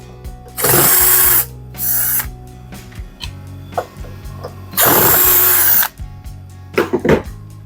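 A power drill whines loudly in two long bursts and a few shorter ones while backing out the mounting leg screws of an LG dishwasher under repair, with quieter handling clatter between runs.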